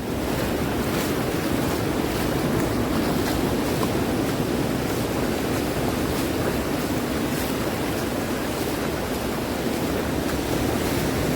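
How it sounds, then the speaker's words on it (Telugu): Ocean waves wash steadily onto the flat sand of Golden Beach in Puri, a dense, continuous surf roar mixed with wind buffeting the microphone, with no voices. "వేవ్స్ అనేది అలా చూపిస్తుంది కానీ కంప్లీట్గా నాన్ డేంజరస్."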